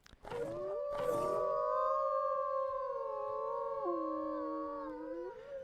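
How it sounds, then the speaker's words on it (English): Drawn-out, wolf-like pack bonus howl from a tamed creature in Ark Survival Evolved, with several overlapping tonal voices that rise, hold and slowly bend downward, loud and close, with no talking. "they have a pack bonus howl"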